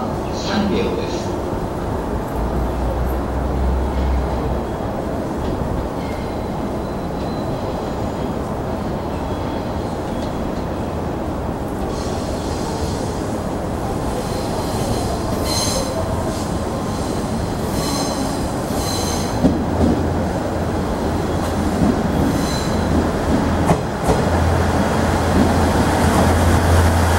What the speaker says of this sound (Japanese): まもなく5番線には、快速直通の石巻行きの列車到着いたします。